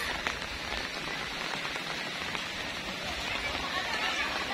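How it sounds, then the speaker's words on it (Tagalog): Steady rain pattering on a surface, a dense continuous hiss lasting throughout with no pauses. "umuulan po ngayon dito"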